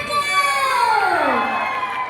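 Audience applause and cheering, loud and close, in a dense wash of noise that swells for about two seconds with a falling tone sweeping through it.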